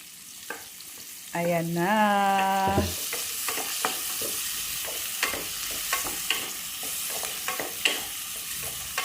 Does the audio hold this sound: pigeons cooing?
no